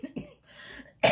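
A single short, quiet cough from a woman, a couple of soft throaty bursts followed by a sharper, louder cough at the end, close to the microphone with no talk.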